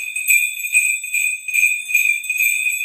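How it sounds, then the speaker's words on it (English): Number four size solid brass bell with a leather strap, shaken repeatedly so it gives a loud, close, continuous ringing with regular pulses and no voices. "And this is our number four bell size."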